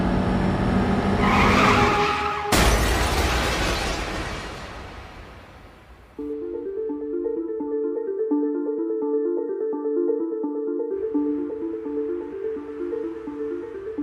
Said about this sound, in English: a car has just left the road and crashed into the trees